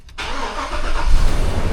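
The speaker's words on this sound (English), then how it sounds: "Starting the engine" A car with a newly fitted starter, towed in after a no-crank, no-start fault, fires up after a short crank and settles into a steady, loud idle, with no talk over it.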